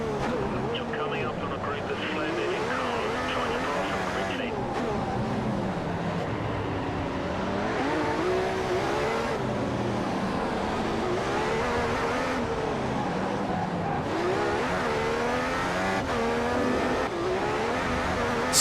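Formula 1 car engines from the F1 2015 racing game at Monaco whine continuously at high revs, pitch rising and falling through gear changes, loud and steady throughout.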